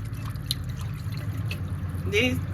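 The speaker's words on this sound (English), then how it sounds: "I'm going to start out with 2 cups of regular whole milk. I'm not going to pour it in slowly." Whole milk, two cups, poured all at once into a butter-and-flour roux for a baked macaroni and cheese sauce, giving a steady liquid trickle under a low background hum, with a brief voice near the end.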